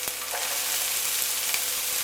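Diced carrot frying with crushed garlic in a hot pan, giving a steady close hiss and crackle with a few faint stirring clicks throughout, no voices.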